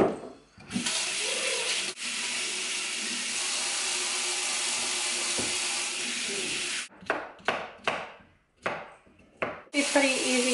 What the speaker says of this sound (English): I'm just gonna chop the ends off